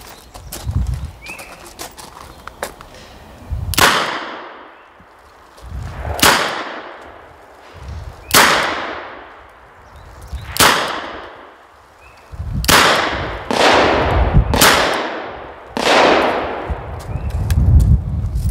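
A WW1-era M1917 Colt revolver firing .45 ACP cartridges outdoors lets off a series of loud, sharp gunshots at irregular intervals of a second or two, each with a booming echoing tail.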